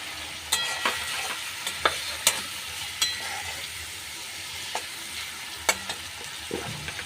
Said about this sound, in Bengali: এবার এর মধ্যে আমি টমেটো কুচিগুলো দিয়ে দিলাম।